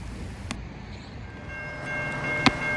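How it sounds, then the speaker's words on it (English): A Norfolk Southern sulfur train sounds its horn, the steady tones echoing loudly off a wall over low rail rumble, with a sharp click near the end. "The horn managed to bounce just right off the wall, so it was extremely loud the whole time."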